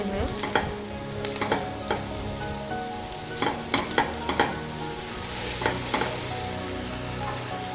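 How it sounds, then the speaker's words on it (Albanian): Onions sizzle steadily in a pan, with a spoon or spatula scraping and stirring in short, repeated bursts; no voices. "Do të japim qepëve një të skuqur të lehtë"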